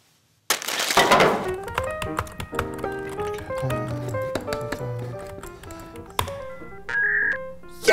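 A dial-up modem connects over a phone line: a sudden burst of harsh static and shifting electronic tones, screeches and warbles, loud and continuous for several seconds with no talking.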